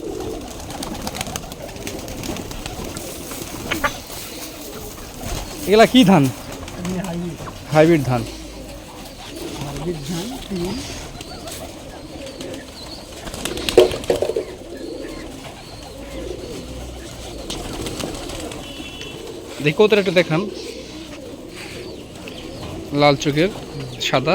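A flock of Giribaz pigeons feeding together in an abandoned yard keeps up repeated throaty cooing, with several louder coo bursts rising above the background while people talk nearby.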